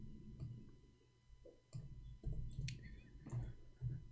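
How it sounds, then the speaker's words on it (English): Keys on a keyboard click and tap in irregular bursts, faint and close, with scattered soft presses and small pauses between them and no speech. "I'm typing in English again."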